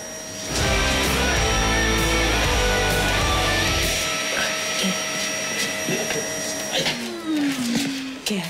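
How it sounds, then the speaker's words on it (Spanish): A household vacuum cleaner roars loudly and continuously indoors, its steady motor whine and airflow filling the room, then changing pitch as it is moved about near the end. "Estaba pasando la aspiradora un poco"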